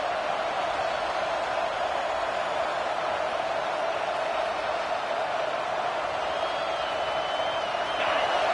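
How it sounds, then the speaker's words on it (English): A steady, dense roar of a large stadium crowd at an American football game, sustained and even throughout with no distinct voices standing out. "Listen to the crowd energy here in the early going."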